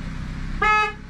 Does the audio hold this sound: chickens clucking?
no